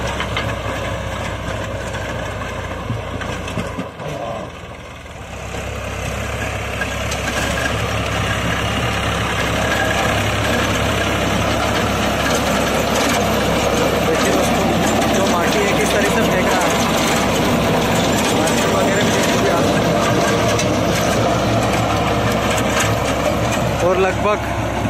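A loud, steady New Holland 3600-2 tractor engine pulling a rotavator through soil, with a deep low rumble; it dips briefly early on, then holds a constant drone.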